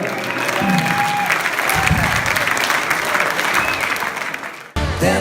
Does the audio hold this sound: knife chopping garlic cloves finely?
no